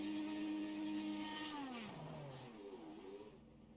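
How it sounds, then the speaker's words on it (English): A racing video game IndyCar spins victory donuts at EchoPark Speedway in Atlanta, its engine whine holding steady, then sliding down and rising again as the car rotates. The sound is loud, continuous and comes with no talk. "Time for victory donuts."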